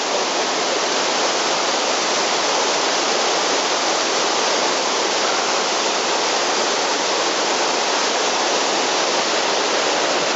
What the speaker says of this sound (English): So I'm at the first waterfall.